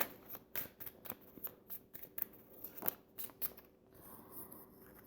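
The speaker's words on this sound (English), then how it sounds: "let's go now to the moon cards and pull another card from the moon deck" Cards from a moon card deck being shuffled and drawn, a run of crisp riffling flicks and papery slaps at close range, ending in a softer slide as a card is pulled, with no talking.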